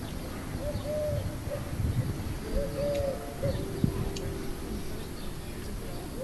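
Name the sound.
wood pigeon cooing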